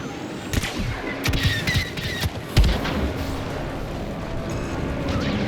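Blaster fire rattles through a Star Wars Battlefront II battle, with scattered sharp shots and bursts over a constant roar of combat, some louder nearby impacts, and a steady busy din throughout.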